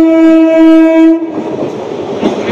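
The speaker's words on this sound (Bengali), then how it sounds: "এই হচ্ছে আমাদের গেল নৈহাটি শিয়ালদা লোকাল" A Naihati–Sealdah local train blasts a loud, sustained horn for about a second, then roars past up close with rattling clickety-clack of wheels over the rails.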